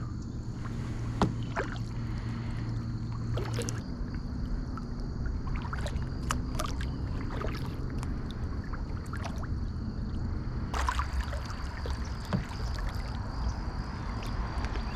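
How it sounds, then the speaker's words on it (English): A canoe is paddled upstream on a foggy Central Florida lake: soft, regular paddle strokes splash and swish in the water, with gentle trickling and dripping between strokes. "we're just gonna paddle upstream a little bit and then float back down doing some fishing"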